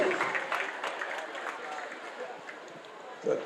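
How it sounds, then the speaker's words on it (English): Poolside applause for swimmers after a 400 IM race at a summer senior swim meet, a fairly faint spatter of clapping that thins out toward the end, with some background voices. "Nice round of applause, please."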